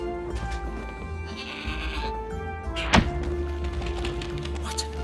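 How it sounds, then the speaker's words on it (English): A goat bleats in the video game Trine 4, a clear animal call over steady game music and ambience, with a sharp thunk near the middle. "What an amazing goat!"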